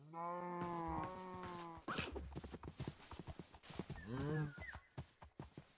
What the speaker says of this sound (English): This is a fast donkey.